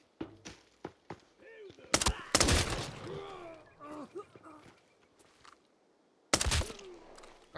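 Gunfire in the shooter Arena Breakout Infinite: a few loud sharp bursts stand out, set among scattered footsteps and clicks, with talking and other game sounds in between.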